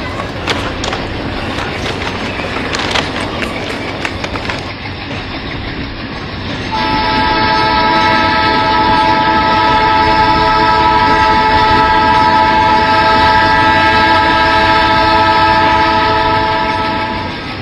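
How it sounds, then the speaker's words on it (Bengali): A train rumbles and clatters closer along the track, then sounds a long loud steady horn that holds for about ten seconds over the roar of the wagons. "ট্রেন আসতেছে।"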